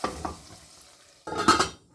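Hot tadka tempering is poured into mung masoor dal, first with faint stirring sounds, then a sudden loud sizzling burst that hisses briefly and dies away, close and with no talking.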